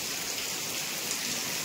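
Heavy rain pouring down in a steady, dense hiss of countless drops striking surfaces, loud and unbroken throughout with no voices.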